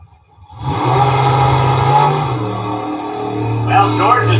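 Stock car accelerating hard down a drag strip, a loud engine roar rising through gear changes and building steadily. A commentator talks over it.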